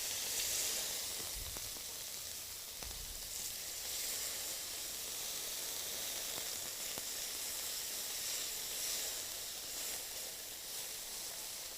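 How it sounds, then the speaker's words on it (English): Mushrooms sear in a fair amount of oil in a wok, giving a steady, close, even sizzle and hiss that runs without pause, with no voices. "If you are doing it in a wok, you do need a fair amount of oil to just make sure you sear those mushrooms nicely"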